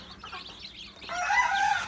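Chickens on a poultry farm give a brief burst of close clucking and squawking calls that grows louder toward the end.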